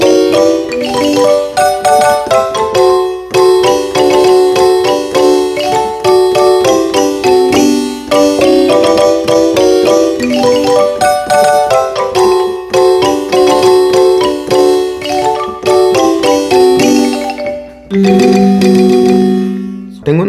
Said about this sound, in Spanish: Tengo una marimba pura de Guate combinado con otra marimba de el Core Extreme